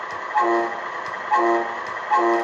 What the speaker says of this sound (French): L'appel de klaxon vers le bas.